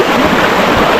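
A river flows steadily close by at an outdoor spot near a hill, its broadband rushing and gurgling filling the whole short stretch at a loud, even level with no voices.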